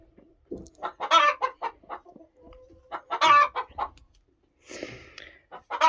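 A broody hen clucks in a series of close, irregular bursts with short pauses between them, calling on its own without talk.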